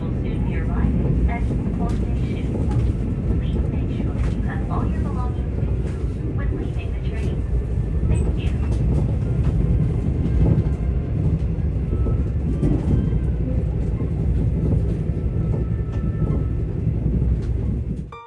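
A Mugunghwa night train pulls into Gupo Station, a steady, loud low rumble and rolling rail noise filling the whole stretch, with faint voices mixed in beneath the continuous din.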